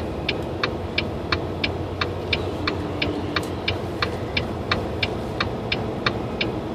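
A truck idles and pulls out of a parking spot at a truck stop, its steady low engine rumble running throughout, with a rhythmic ticking from a turn signal clicking over it.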